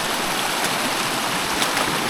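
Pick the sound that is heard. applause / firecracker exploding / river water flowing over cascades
river water flowing over cascades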